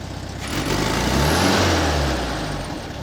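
A 1968 VW Bus engine runs just after its first start, a loud, close air-cooled idle that swells as the revs rise and then settles back down, steady and throaty with no talking.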